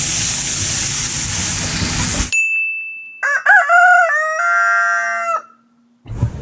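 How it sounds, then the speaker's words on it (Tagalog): After a noisy background cuts out, a bright ding rings, followed by a loud, drawn-out crow from a native chicken rooster nearby. "native na manok."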